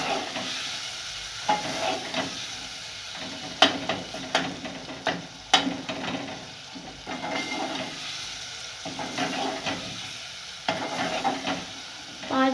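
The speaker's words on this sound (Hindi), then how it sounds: "अब इनको मैं अच्छी तरह भून लूँगी।" Ingredients being stirred and fried in a pan for a home-style egg and peas curry with tomatoes, with a steady sizzle under repeated scraping and knocking of a spoon against the pan, no talk.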